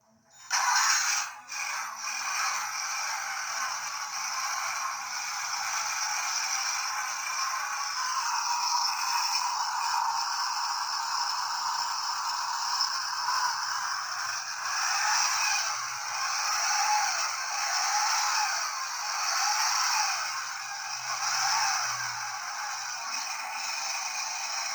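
Small speaker inside a 1/8 scale IXO Porsche 917K model playing a recorded engine start-up, a thin, tinny, steady engine roar that kicks in abruptly and holds at even loudness without talking.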